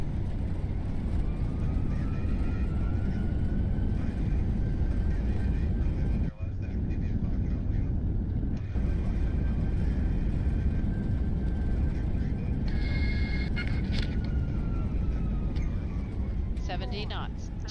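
A jetBlue airliner's engines roar in reverse thrust as it decelerates on the landing rollout, a loud, steady broadband rumble that holds throughout with a brief dip midway and a whine swelling toward the end.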